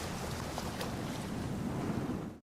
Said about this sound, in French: le murmure mêlé de la mer et du vent